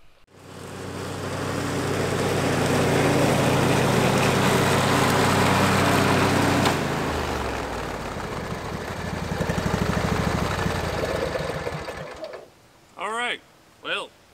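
A lawn mower mows a yard in Tennessee with a loud, steady engine drone for about twelve seconds. The engine then fades out, and a few short bursts of voice follow at the end.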